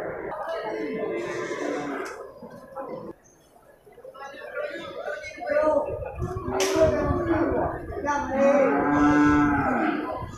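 A water buffalo with its horns cut off, at an animal market, lowing repeatedly over crowd chatter and someone talking close by, with a calf nearby.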